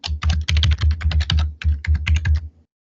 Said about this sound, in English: and type in my password again